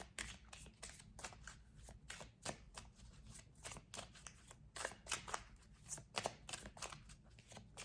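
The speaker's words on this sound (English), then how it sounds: "Let's pull a couple of romance angel cards." Romance angel oracle cards being shuffled by hand, a quiet run of rapid papery riffling and snapping flutters in close, irregular bursts with no voice over them.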